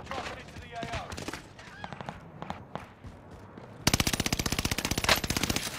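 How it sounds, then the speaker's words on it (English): Gunfire in Warzone Pacific starts with scattered single shots and footsteps under talk, then becomes a loud, rapid, evenly spaced burst of automatic fire in the last two seconds. "Somebody's shooting me from across, baby."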